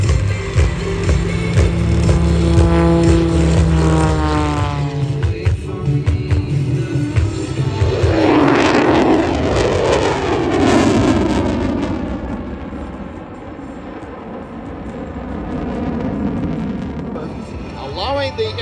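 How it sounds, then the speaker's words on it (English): An Edge 540 aerobatic airplane flying low at the Oregon Airshow in Hillsboro, its loud engine droning and rising into a close roaring pass before fading off, while an announcer talks over it. "Here's one of your photo opportunities of Melissa in the Edge 540."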